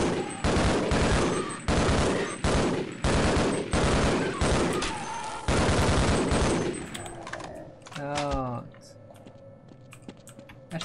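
A rarely used gun fires in Half-Life in a burst of loud, repeated shots over several seconds, then a quieter stretch with mechanical game sounds and background noise.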